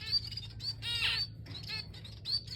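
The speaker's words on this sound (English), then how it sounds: "The last few days I've been trying to train these little birds" Small birds being trained to take food from a hand chirp and tweet in quick bursts, close and fairly loud, over a low steady hum.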